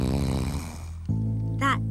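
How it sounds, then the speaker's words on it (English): A cartoon character snores while asleep in a hammock, giving a deep, rumbling, drawn-out snore followed by a lower droning breath, close and fairly soft. "All I can hear is Slugsy snoring in the hammock."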